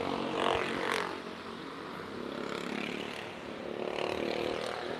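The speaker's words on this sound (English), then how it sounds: "scooters that are motorized." Loud motorized scooters ridden by two kids pass by outdoors, a rising and falling engine whine with a couple of sharper revs, fairly near, with no talk over it.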